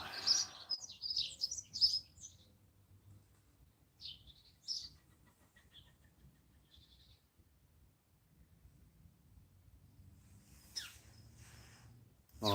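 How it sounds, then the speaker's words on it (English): Birds chirp at an outdoor campsite, with a cluster of bright tweets at the start, scattered calls after it and a long quiet stretch before a few more faint calls, all distant and soft. "being out here, sound of birds."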